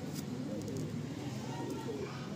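A Kalsira pigeon in a loft gives soft, low, repeated coos against a steady background hum, heard close and fairly quiet.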